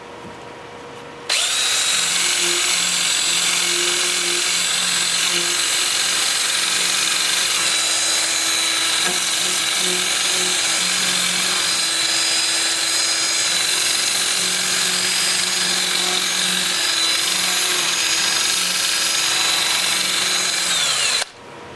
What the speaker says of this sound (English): Then I will use my 2-inch disc starting at 80 grit and working up through 400. I'll have the piece spinning in reverse at 410 RPM.